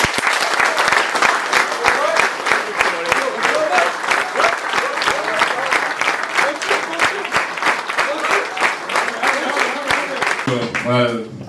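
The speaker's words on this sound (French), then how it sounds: "mais je pense qu'il mérite de gros applaudissements" Sustained applause from an audience at an end-of-season ceremony for J.A. Vichy-Clermont Métropole basketball club, dense steady clapping throughout, close and loud, with a brief voice at the very end.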